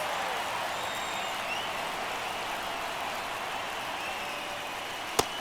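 A baseball stadium crowd in MLB The Show 23, in the 9th inning of a one-run game, gives a steady, moderate hiss of broad noise that ends with a single sharp click.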